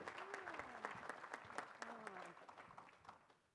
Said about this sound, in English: let's give Jenna another round of applause